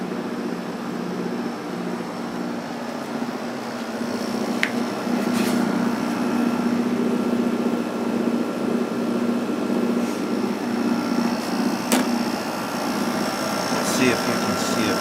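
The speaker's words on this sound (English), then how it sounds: "you can hear that vibrating sound, but the motor shaft is going in and out a little bit" Emerson Quiet Kool 6,300 BTU window air conditioner running with a steady motor hum and buzzing vibration from a worn thrust washer letting the shaft shift in and out, continuous and close with a few faint clicks.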